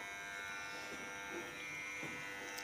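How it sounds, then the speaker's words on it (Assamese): An electric hair clipper buzzes steadily at home while cutting a boy's hair, a constant close hum with slight shifts in tone as the blades move through the hair, no talking. "সেইকাৰণে মেচিন দি কাটিছোঁ।"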